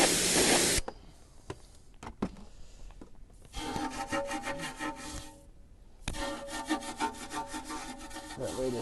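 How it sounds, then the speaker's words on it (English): A brush scrubs the barrel of a car wheel in rough, rhythmic rasping strokes, close and moderately loud. A brief spray hiss comes first, and the scrubbing continues in two longer sustained stretches. "So we're just giving that barrel a good brush."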